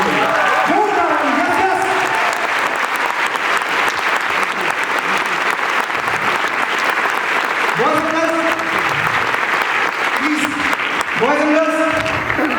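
Loud, dense applause from a large audience at a seminar program, sustained throughout, with a voice speaking over it at intervals.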